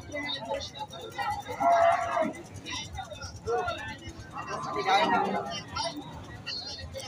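At a cattle market, a cow gives two drawn-out lows amid steady crowd chatter and nearby voices, with low background bustle throughout.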